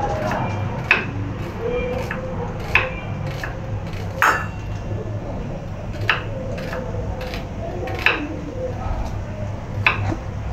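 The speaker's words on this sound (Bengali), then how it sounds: "এইভাবে সবগুলো কেটে নেব" Vegetables are cut one at a time with a knife on a board, giving sharp chopping taps every couple of seconds, close and fairly loud, while a person talks over them.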